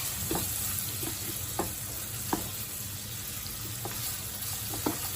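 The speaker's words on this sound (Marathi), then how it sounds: "कांदा हा चांगला थोडासा ब्राउनिश कलरपर्यंत तुम्ही परतून घ्या" Onions and cashews fry in a pan to a continuous close sizzle, with a spatula stirring them in soft scrapes and occasional knocks against the metal.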